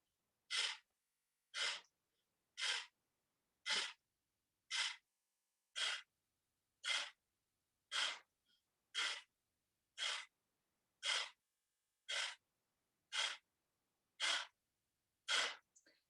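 Sharp, forceful exhales through the nose during a seated yoga twist, about fifteen short bursts in a steady rhythm roughly one per second, close and crisp with silence between.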